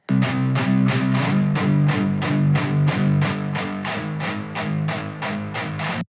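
Heavy distorted electric guitar with its mid-range scooped out, leaving a thin, scratchy, static-like tone; steady chugging strums repeat in an even rhythm, loud and alone throughout.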